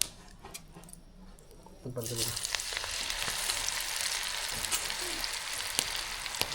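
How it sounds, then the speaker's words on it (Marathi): Sliced jackfruit wafers deep frying in hot oil, a steady close sizzle and crackle that starts abruptly and continues throughout, with a voice speaking over the start. "लाल होईपर्यंत तळायचे ना काढल्यावर थोडे लालसर झाले ना मग काढून घ्यायचे"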